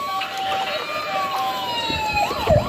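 A toy fire truck's electronic siren wails with steady, slowly drifting tones, moderately close and fairly quiet, and a voice briefly cuts in near the end.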